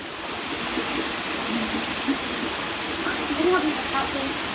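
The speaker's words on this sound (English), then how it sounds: "Look at that rain. That's what you call coming down, guys." Heavy rain pours down steadily in a broad, hissing wash outdoors in Merthyr, loud and close throughout, with faint voices murmuring underneath.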